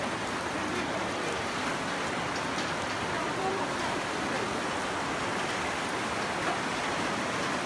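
Steady rain pours down during flooding around a house, a dense even hiss filling the whole stretch without pause, close and constant with no distinct drops standing out.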